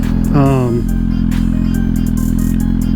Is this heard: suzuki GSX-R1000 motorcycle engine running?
yes